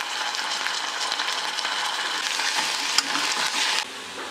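A spoonful of ginger garlic paste fries with onions and green chillies in a pan, giving a dense, even hiss up close with a few faint stirring clinks and no talking.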